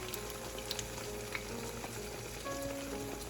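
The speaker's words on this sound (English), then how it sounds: "Keep on stirring the eggs until they are fully cooked." Eggs frying and being stirred in an oiled wok for Chinese shrimp-and-egg fried rice, a steady close sizzle with faint scraping strokes throughout, no voices.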